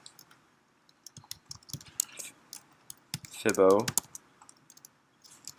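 Keys clatter in short bursts on a computer keyboard as a Python command is typed at the command line, close and crisp, with a brief voice speaking partway through.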